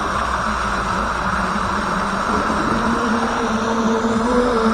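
Thunder Tiger OBS Jr RC boat running at about quarter throttle, giving a steady, continuous motor drone with water rush that holds an even level throughout, no voices over it.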